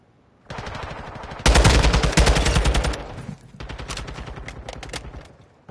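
Automatic gunfire in Modern Warfare 2 multiplayer, loud, rapid bursts of rattling shots close by, with a brief pause before another stretch of sustained firing.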